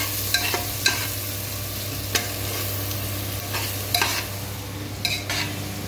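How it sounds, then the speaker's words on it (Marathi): Spice masala for moong dal khichdi is stirred and roasted in a pan: a steady sizzle of oil under repeated scraping strokes and clinks of the spatula, close up and without any voices. "चांगलं भाजून घ्यायचा आहे सगळा मसाला."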